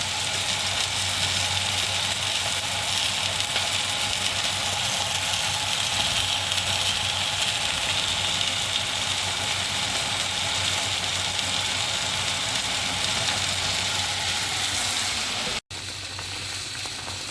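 Continuous sizzling and crackling of milkfish frying in hot oil, a steady hiss that carries on unbroken, close by.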